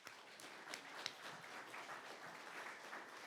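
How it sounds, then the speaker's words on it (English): A community meeting audience applauds, with a short burst of fairly faint, steady clapping from a modest crowd in an indoor hall. "So I think that really needs a round of applause."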